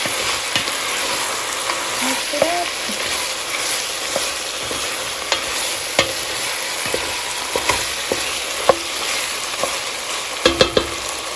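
Squash pieces stir-fried with fine black pepper in a pan, giving a steady close sizzle with scattered clinks and scrapes of the utensil stirring.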